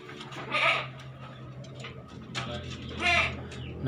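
A goat in rut bleats twice in loud, raspy bursts, first near the start and again toward the end, over a low steady hum with faint background activity between calls.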